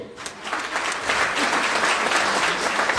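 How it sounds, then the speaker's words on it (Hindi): Audience applause at a Hindi-language health product talk about heart attacks, a steady wash of many hands clapping together, fairly loud and continuous for the whole stretch. "ताली बजाइए।"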